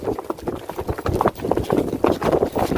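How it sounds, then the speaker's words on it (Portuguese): Hooves pound rapidly in a loose galloping rhythm as a horse runs close by, loud and continuous with a rough, scuffing texture. "agora tá correndo. Um galopinho"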